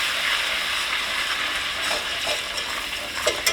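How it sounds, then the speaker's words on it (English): All-purpose flour is whisked into hot smoked turkey fat in a pan to make gravy, giving a soft, even sizzling hiss with a few light whisk scrapes near the end. "we're going to add about 1/2 to 2/3 of a cup of all-purpose flour. And we're going to mix that in with a whisk"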